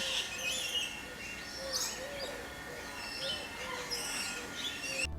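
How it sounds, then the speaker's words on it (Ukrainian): Parrots calling at Loro Park in Tenerife, scattered high chirps and squawks overlapping from several birds at a moderate distance over a faint background murmur. "Особливе місце в цьому парку посідають папуги, власне кажучи, вони й дали назву цьому місцю."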